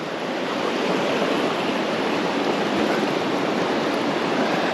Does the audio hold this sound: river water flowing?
yes